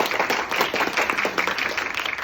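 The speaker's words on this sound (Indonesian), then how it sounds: "Tepuk tangan untuk kita semua" Audience at an Indonesian school assembly applauding together, a dense, steady wash of many hands clapping at moderate loudness throughout, with no talk over it.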